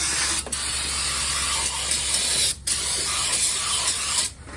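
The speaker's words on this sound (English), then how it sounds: "Let me get a little brake clean and just spray this out." Long hissing bursts from a can of brake cleaner spray, three sprays separated by brief pauses, close and loud with no voices.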